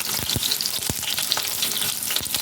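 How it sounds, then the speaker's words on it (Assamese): Onions frying in hot oil crackle and sizzle steadily and up close, with a few sharp spits and stirring scrapes through the short stretch. "তেলত ভাজি লওঁ।"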